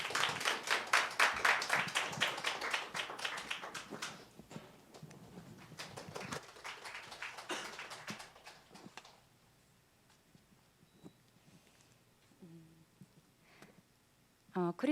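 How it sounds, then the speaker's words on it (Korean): A church congregation claps to welcome a speaker at a Christmas service, a burst of close hand claps that is loud at first, then thins to scattered claps and fades to near quiet. "우리 성명자 사모님 나오셔서 간증해 주실 때 우리 한번 박수로 좀 환영하시기 바랍니다."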